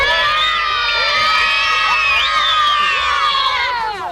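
Children at a school sports event cheering and shouting hurray together after class results are announced, a loud, continuous crowd of young voices rising and falling with overlapping whoops throughout.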